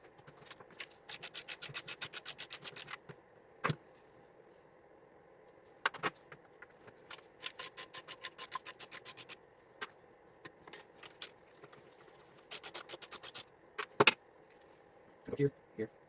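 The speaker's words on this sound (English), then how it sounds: "I'm going to remove these 3 screws here. That is a T20." T20 Torx screws come out of a 2005 Mercedes S55 center console, giving short bursts of rapid ratcheting clicks with pauses between them, close and fairly quiet. A few taps and knocks are mixed in.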